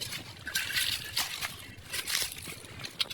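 Water trickling and sloshing along a stream in a forest, with irregular gurgling bursts and small splashes, fairly close and steady, with no voices.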